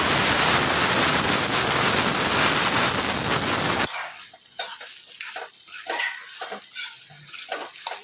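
Okra frying in a pan with turmeric, coriander-cumin powder and garam masala: a loud, dense sizzle for about four seconds, then a quieter stretch of scraping stirring strokes and light clinks against the pan.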